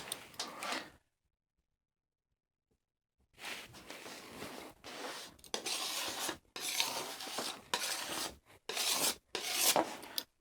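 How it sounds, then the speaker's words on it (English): Oil paint scraped off a canvas with a tool, rough rasping strokes in repeated bursts after a brief silence, close and fairly loud, with no talking. "Just scraping that paint right off."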